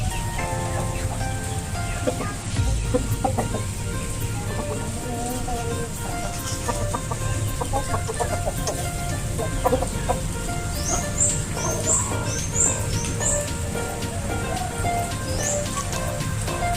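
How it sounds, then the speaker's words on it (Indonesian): Siam and Ekor Lidi crossbreed chickens cluck and crow in a busy yard, steady calls layered over a constant background hum with a few higher chirps near the end. "hasil dari persilangan antara ayam siam dengan ayam ekor lidi"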